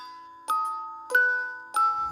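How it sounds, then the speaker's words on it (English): Three bright, ringing chimes strike in sequence, each tone sustaining and slowly fading, like festive bells against near silence. "Listen to these Christmas bells."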